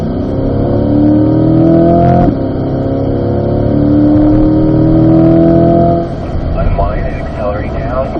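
A Corvette accelerates on a race track at an owners' driving school, with a loud sustained engine drone climbing in pitch through gear changes while someone talks over it.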